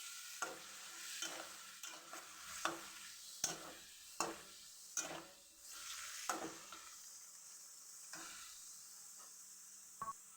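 Momo filling of chopped chicken being stirred in a pan and lightly fried, with a steady sizzle and a run of distinct scraping strokes of the spoon, close and fairly quiet, with no talking.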